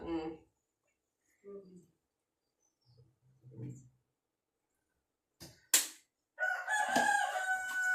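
A rooster crows near the end, loud and close, after scattered short sounds and voices in a quiet outdoor setting at midday.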